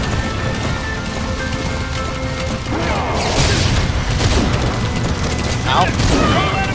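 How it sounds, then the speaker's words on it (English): Gunfire in Metal Gear Solid 5 Phantom Pain, loud clattering bursts of shots mixed with rumbling action noise, intensifying in the second half, with someone talking over it. "I'm shooting!"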